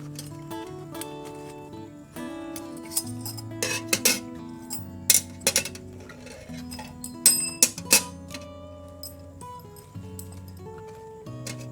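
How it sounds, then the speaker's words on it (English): Camping fork, spoon and chopsticks being handled, with close, quiet metallic clinks and light taps scattered irregularly over a soft background hum. "Now I'm going to show you my fork and spoon."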